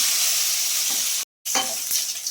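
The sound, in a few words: curry leaves sizzling in tempering with garlic and onion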